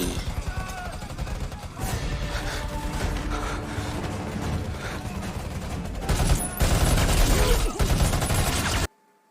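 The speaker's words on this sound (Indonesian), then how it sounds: "Dan aksi baku tembak pun tak terelakkan lagi." Gunfire fills a gunfight scene in the action film Triple Threat, with dense rapid bursts of shots and clattering impacts, loud and sustained over a busy soundtrack before cutting off abruptly.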